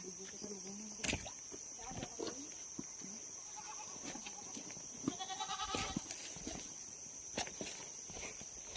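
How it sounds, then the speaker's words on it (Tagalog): A goat bleats a few times outdoors, mid-distance and fairly faint, over a steady high insect drone with scattered footsteps and rustling. "ang unang narinig natin guys, yung kambing."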